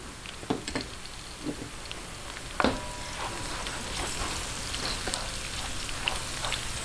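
Garlic toasting in hot oil for stir-fried kangkong crackles with a steady, close sizzle, dotted with sharper pops and a few louder spits along the way.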